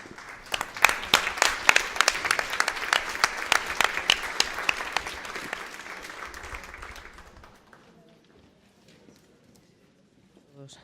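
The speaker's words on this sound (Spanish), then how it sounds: "pido un aplauso para Juan y Eva Amaral" Applause at a Reporteros Sin Fronteras España event honoring Juan and Eva Amaral, a dense crowd clapping with sharp individual claps, sustained for several seconds then fading out to near silence.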